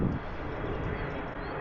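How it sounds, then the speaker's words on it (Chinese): An airplane passes overhead above a rural riverside village, a steady broad rumbling roar mixed with light wind noise, fairly loud and unbroken. "头顶上有飞机飞过。"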